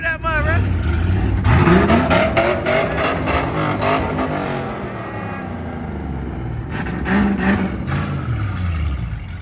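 A truck engine revs hard in mud with a bass-boosted sound system nearby, rising and falling surges of motor noise and pounding thumps mixed with excited voices shouting close by.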